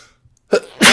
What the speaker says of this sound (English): sorry, I'm going to sneeze again